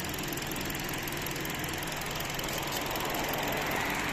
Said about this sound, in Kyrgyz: А мотор чөткү от алып турат.